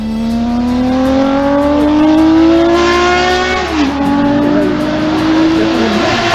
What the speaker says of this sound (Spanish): su canto sigue siendo considerado uno de los más hermosos jamás salidos de un escape